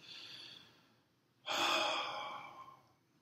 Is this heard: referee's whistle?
no